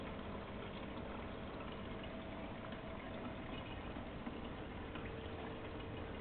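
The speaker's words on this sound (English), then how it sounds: "One of the beds is now siphoning." An aquaponics grow bed siphons water while a small 10-watt aquarium pump runs, a steady close gurgling, bubbling flow over a constant low hum, continuous and without voices.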